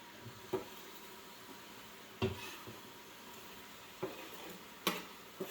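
Onion frying in a soup pot, a steady low sizzle running throughout, broken by a few sharp clinks and scrapes of a utensil against the pot at irregular moments, close and fairly quiet with no talking.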